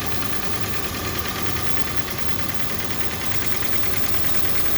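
A 2006 Land Rover Range Rover engine idles steadily and close after a water pump replacement, a continuous rumbling drone with a faint rhythmic knock and no change in pace.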